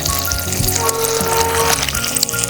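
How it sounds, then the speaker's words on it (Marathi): Ginger garlic paste frying in hot oil over high flame, with a continuous loud sizzle and crackle close up, alone without talk. "ती पण गरम तेलामध्ये छान परतून घ्यायची."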